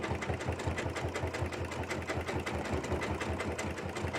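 A sewing machine stitches fabric tubes together for a jelly roll rug, its needle thumping in a fast, even rhythm close by, running steadily throughout with no voices.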